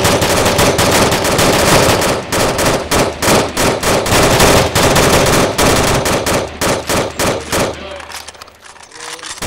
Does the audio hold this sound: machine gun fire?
yes